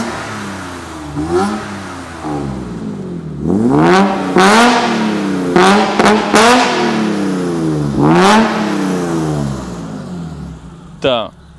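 A car engine revs in a string of short, sharp throttle blips that rise and fall in pitch, giving a Honda-like rasp. The engine sits close and loud, and one final quick blip comes at the end.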